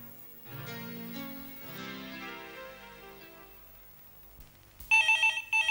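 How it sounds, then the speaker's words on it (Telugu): A telephone rings in a loud, repeating electronic burst near the end, after a call is placed, following a stretch of background music with no talking. "నేను ఇప్పుడే ఫోన్ చేస్తాను."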